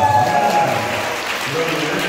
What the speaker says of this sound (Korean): 한 분 한 분씩 박수 쳐 주시고